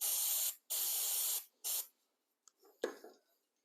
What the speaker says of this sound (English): So got a bit of this rust buster reductor. Let's spray a bit of that in there.